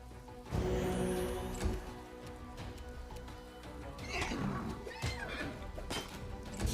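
A horse whinnies amid a busy, dense mix of sounds and music from the video game Pathfinder: Wrath of the Righteous, loud and continuous with sharp peaks throughout.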